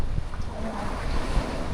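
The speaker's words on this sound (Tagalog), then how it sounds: "malaki yung alon. At saka malakas yung hangin" Steady roar of strong wind buffeting the microphone over big rolling sea waves near the open sea, loud and continuous with no voices.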